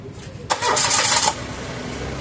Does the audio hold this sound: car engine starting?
yes